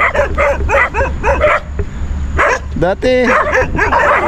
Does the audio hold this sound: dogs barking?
yes